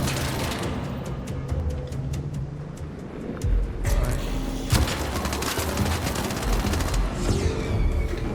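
Rapid gunfire bursts crackle in the Arc Raiders video game, with loud repeated shots over a constant rumbling game soundscape and heavier bangs partway through.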